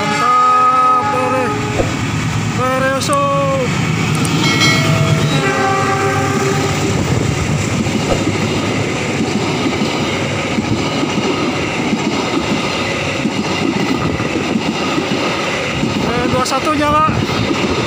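The Turangga passenger train rumbles past loudly and continuously at night near a level crossing, its horn sounding near the start and again at the end, with wheels clattering on the rails.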